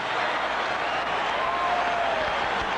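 Crowd noise at the Forum during a 1984 NBA Finals basketball game between the Celtics and Lakers, a dense sustained roar of cheering and clapping that holds steady throughout.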